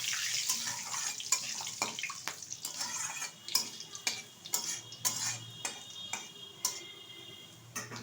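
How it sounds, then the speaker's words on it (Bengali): Bay leaf, whole cumin and whole garam masala spices sizzle and crackle in hot oil while cooking chicken curry, with steady frying hiss broken by frequent sharp pops and ticks, close and moderately loud, no talk. "এখন এই তেলেই দিয়ে দিচ্ছি একটা তেজপাতা মাঝখান থেকে ছিঁড়ে, কিছুটা গোটা জিরে আর কিছুটা গোটা গরম মশলা"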